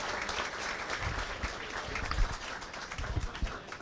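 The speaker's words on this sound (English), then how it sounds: "Give her a great round of applause." Audience applause at a reception on a cruise greets a congresswoman from Texas, a dense, steady wash of many hands clapping at moderate distance, continuing throughout without speech over it.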